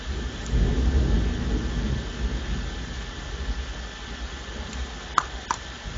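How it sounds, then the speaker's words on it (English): A close thunderstorm rumbles as a deep low roll of thunder, loudest early on and then fading into steady rain noise, with a couple of sharp faint clicks near the end. "I'm having a thunderstorm. That's what that was. That was very close."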